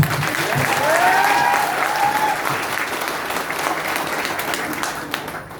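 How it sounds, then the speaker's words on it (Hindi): Loud, sustained audience applause at a celebration event, a dense wash of clapping that rises early and holds steady, with voices faintly mixed in. "सबके लिए एक बार जोरदार से तालियां।"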